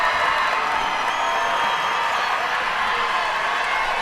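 Graduation crowd at the A B Wilkins High School 2025 commencement, applauding and cheering in a large venue, a steady dense wash of clapping and shouts sustained throughout without a break.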